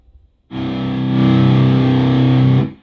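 A heavily distorted electric guitar chord through an EVH 5150 Stealth tube amp and Vintage 30 speakers, unboosted, rings out loud and sustained for about two seconds before cutting off.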